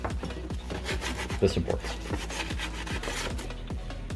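Sandpaper rubs back and forth over a 3D-printed replica necklace, smoothing off the bumps left from removed supports; close, steady rasping strokes repeat in a quick rhythm, with a few words of talk briefly under the scraping.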